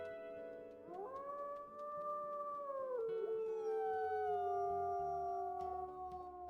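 A wolf howl in the video game WolfQuest, a long tonal cry that rises, holds and then slides lower, clear and fairly close, with some faint lower sounds underneath.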